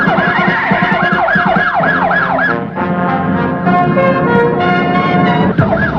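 A police car siren wails loudly and close in a 1970s Afrikaans action drama, sweeping up and down in a fast repeating yelp before settling into a steadier, overlapping wail.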